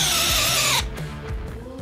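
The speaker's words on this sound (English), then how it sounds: "Now I'm gonna go with a 3/4 inch wood drill." A cordless power drill, a Hercules or Bauer, boring into wood with a 3/4 inch wood bit, a loud high whining motor that bogs and cuts out abruptly, followed by faint clicks and knocks.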